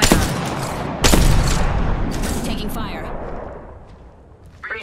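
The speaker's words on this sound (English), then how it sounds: "Fox 3, firing missiles." Valkyrie's missile barrage in an Apex Legends ranked match, a loud burst of launches and booming impacts that roll off into fading rumble, with a voice speaking over it.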